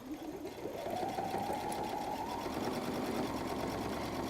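A sewing machine back stitches a seam on a messenger bag, its motor running steadily and close for the whole stretch, the pitch climbing briefly as the stitching speeds up.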